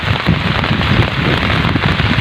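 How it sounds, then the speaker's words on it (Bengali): Heavy storm rain pours down on a riverside char village in Bangladesh near dusk, a dense, steady hiss of drops drumming on surfaces, loud and unbroken throughout with no voices. "বৃষ্টির এই শব্দ, ফোঁটা ফোঁটা পানি যেন মনে হয় আকাশ ভেঙে পড়ছে।"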